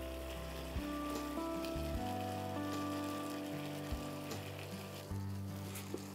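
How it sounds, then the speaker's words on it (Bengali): Soft sizzling of mixed winter vegetables sautéing in a pan, a faint continuous crackle with a low background hum and occasional small clicks. "আমরা সবজিগুলো দিয়ে এটাকে একটুখানি সতে করব"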